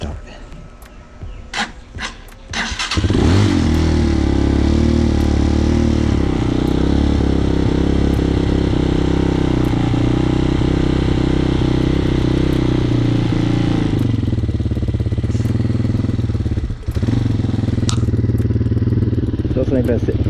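Dirt bike engine cranked by electric start, a few short clicks and sputters before it catches and settles into a loud, close, steady idle, with a brief dip, as people talk nearby.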